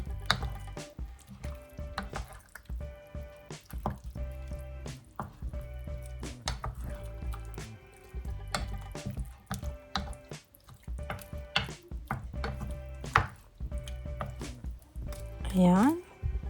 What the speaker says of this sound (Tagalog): And mix well. At haluin natin siya ng haluin.